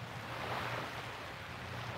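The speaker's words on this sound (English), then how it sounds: "the ocean is calm today and nice and blue" Calm, blue ocean at the shore gives a steady, even wash of surf with soft wind noise, continuous and moderately quiet, with no distinct breaking crashes and no voices.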